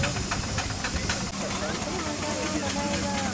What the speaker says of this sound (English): Runswell, 6-inch steam tractor, built by the gentleman who owns it, Mr. Eth